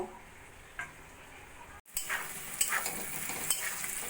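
Spice masala with Kashmiri chilli powder fried and stirred in a pan for mochar ghonto, a banana blossom curry, giving a soft steady sizzle with scraping stirring strokes and light clinks, close up and with no talk.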